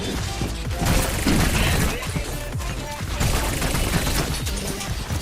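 Heavy bursts of gunfire and crashing impacts fill a chaotic fight in the video game Overwatch, loud and dense throughout.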